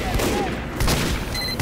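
A sniper rifle fires in a video game, a loud burst of gunfire with a sharp crack and rolling echo that fills the short moment, followed by a brief second report near the end.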